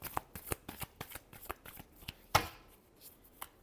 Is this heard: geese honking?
no